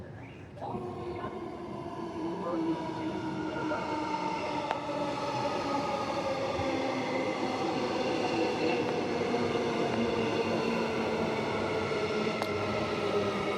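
A six-car express train in Perth passes with a steady, loud rumble and a rising-then-falling electric whine held for the whole stretch, a faint click or two over the rolling noise.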